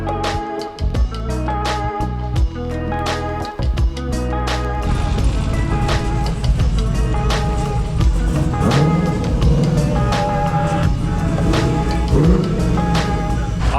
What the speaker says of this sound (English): we're gonna try to get this thing running and idling smooth and see if we can give it a little gas and some RPM